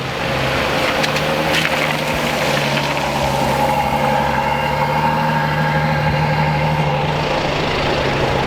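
A Lusso car's engine drones loud and close in a steady, rumbling tone that shifts slightly in pitch as it pulls away, with no voices over it.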